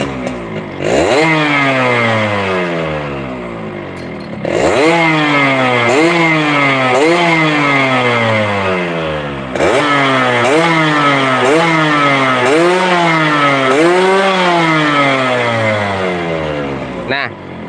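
A Yamaha RX motorcycle fitted with an aftermarket exhaust that still has a short baffle revs loudly and close by, rising and falling through several sharp throttle blips with brief pauses between runs.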